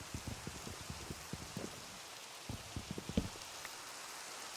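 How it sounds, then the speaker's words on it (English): Rain falling in the video game Minecraft, a soft steady patter of drops with scattered low taps, faint and continuous without any voices. "But no, just some rain."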